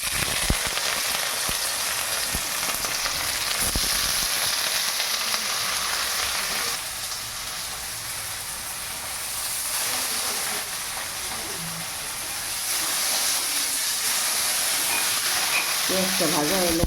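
Onions hiss and crackle in hot oil for chowmein, a steady close sizzle that swells and eases slightly over time with occasional stirring clatter.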